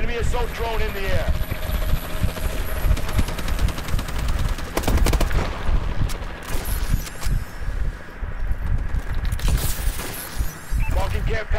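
A Warbird aircraft in Call of Duty: Advanced Warfare roars steadily overhead with a loud, dense rotor-like drone, mixed with bursts of automatic gunfire and sharp battle noise.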